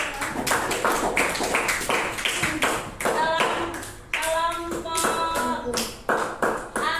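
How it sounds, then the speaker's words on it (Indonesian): Students in a fifth-grade classroom clap together in repeated short bursts of applause, loud and close, while a voice speaks between the rounds. "Tepuk tangan."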